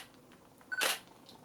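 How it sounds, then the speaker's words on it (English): A Nikon D810 camera fires its shutter once, a short, quiet mechanical snap just after a small electronic beep, in an otherwise hushed room. "the actual shutter"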